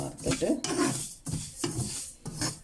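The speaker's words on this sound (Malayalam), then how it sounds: "എള്ള് ചൂടായി നല്ലോണം വറുത്ത് വരുമ്പോൾ എള്ളിങ്ങനെ പൊട്ടാൻ തുടങ്ങും" Sesame seeds roasting in a pan, with scraping and stirring strokes and crackly pops from the hot seeds, close-up, heard in bursts with short pauses between.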